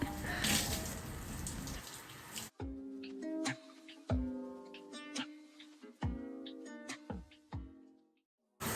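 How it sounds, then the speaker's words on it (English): Tap water gushes loudly for about two seconds while rinsing out curly hair, then cuts off abruptly, followed by quieter ringing clinks and knocks. "now that everything's rinsed out"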